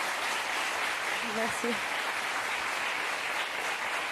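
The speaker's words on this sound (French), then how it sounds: "Ça s'applaudit quand même." A television studio audience applauds steadily, a thick even roar of clapping while someone briefly speaks over it.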